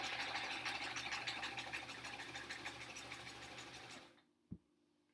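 A sewing machine stitches a large border onto the sides of a Splendid Sampler quilt, running in a rapid, steady mechanical whir at close range before stopping abruptly, followed by a single soft knock.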